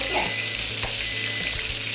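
Steak fries in a hot pan, a loud dense sizzle filling the whole moment, with a low rhythmic pulsing hum beneath it.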